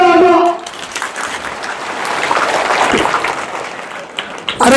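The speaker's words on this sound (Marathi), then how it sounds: "जोरदार टाळ्या" Clapping from a crowd at an outdoor political rally in Maharashtra rises after a loud voice cuts off, a rough, rain-like patter of hands that swells then eases before a voice returns at the end.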